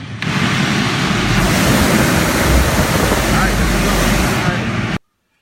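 A newly installed blower motor runs with a loud, steady broadband whoosh for about five seconds, then cuts off abruptly into silence.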